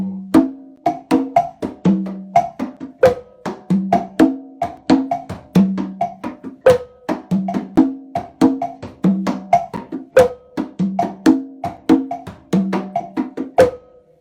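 Sharp, bright wooden clicks tap out a clave pattern starting on the two side (2-3), repeating over a steady looping groove, close and crisp throughout.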